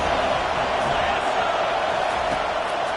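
At an American football game, a stadium crowd keeps up a constant loud roar of cheering. The dense wash of noise stays steady and unbroken throughout.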